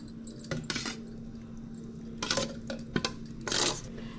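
Soaked appam batter is scooped into a mixer jar. Close, quiet kitchen sounds: a few scattered metallic clinks and scrapes of a spoon against steel, with light clatter and no talking.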